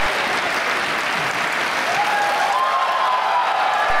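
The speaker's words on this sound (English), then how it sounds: "He hits the stage to a standing ovation" A standing ovation greets Ron Paul as he takes the stage at Goucher, a thick wash of continuous clapping from a large audience, sustained and even from start to finish.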